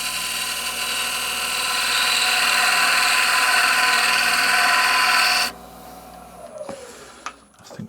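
Outside edge of a wooden lidded box being taken down with a power tool, a loud steady whine for about five seconds that cuts off abruptly, followed by quiet handling and a few light knocks.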